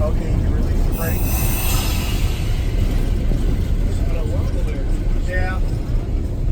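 A Southern Pacific train rolls over jointed, non-welded track at around 16 to 20 mph, giving a continuous heavy rumble with faint squeals and rattles from the cab.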